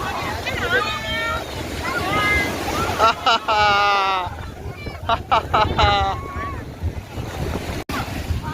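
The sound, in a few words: speed boat on the sea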